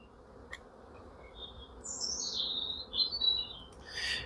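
Honey bees hum softly around an open hive frame during nuc building. Brighter chirps from birds nearby rise and fall over the low buzz, and no one speaks.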